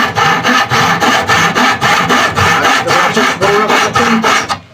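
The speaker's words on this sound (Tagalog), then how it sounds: "Lagari ko sa mapurol na, sa bado na kasi yung section, mapurol na, kaya iba na ang tunog" A dull handsaw cuts through wood in steady, rhythmic rasping strokes, loud and close, with a rough, grinding edge to each pass.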